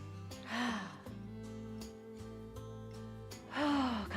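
Audible breathing during a seated yoga twist, two noticeable gasping breaths near the start and end over a steady backdrop of sustained music tones, no speech.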